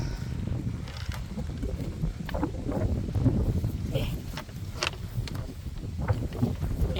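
Strong wind buffets the microphone outdoors, a loud continuous low rumble with gusty fluctuations, while faint voices and scattered small sounds come through underneath.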